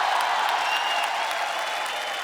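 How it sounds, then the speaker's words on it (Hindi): A studio audience at The Kapil Sharma Show breaks into loud, sustained applause, a dense wash of clapping that holds steady and fades only slightly. "एक बार जोरदार तालियां क्योंकि भाई के लिए हो जाए।"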